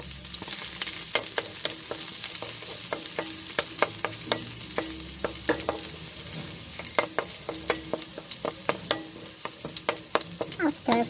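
Marinated ingredients sautéed with garlic in a pan for a Bisaya ginamay dish, a loud continuous sizzle broken by frequent sharp spatula clicks and scrapes in an uneven rhythm, close up with no talking.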